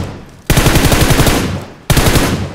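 Rapid automatic gunfire in the mobile battle-royale game PUBG Mobile: two loud, close bursts of fast repeating shots, the first about 1.4 seconds long and the second cut short, with no talking.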